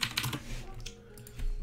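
Rapid bursts of computer keyboard typing as locker codes for NBA 2K22 MyTeam are entered, clustered keystrokes close and fairly quiet, with short pauses between runs and no talking.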